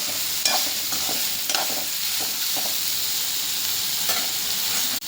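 Salted ridge gourd is stirred in a pan, producing a continuous loud sizzle with regular scraping strokes of a spatula against the pan, close up and without talk.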